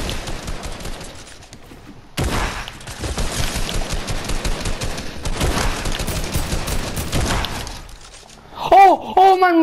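Fortnite gunfire rattles in rapid bursts, dense and loud, with short pauses between volleys; an excited voice bursts in at the end.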